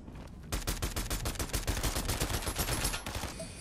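Automatic gunfire in the Fortnite video game rattles out as a fast, continuous burst of sharp shots lasting about three seconds, loud and close, with nobody talking over it.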